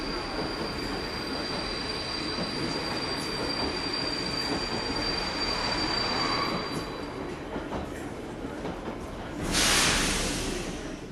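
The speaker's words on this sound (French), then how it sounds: "Le TGV en provenance du Cabaret Saint-Flour va entrer en gare." TGV high-speed train pulling into a station, a steady broadband rumble of rolling wheels and rail noise with sustained high whine and squeal, swelling briefly louder near the end as it passes close.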